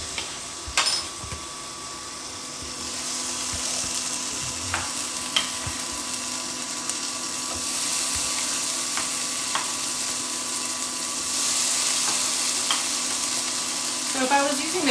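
Tomato and garlic paste sizzles and spits steadily in a hot frying pan for a mushroom masala curry, a continuous close crackle with occasional sharp pops and faint stirring scrapes, no talking.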